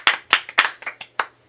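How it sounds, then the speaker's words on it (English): A small group claps at an online album release show, with about seven sharp, close claps in a quick, slightly uneven rhythm and no talking. "Round of applause for them."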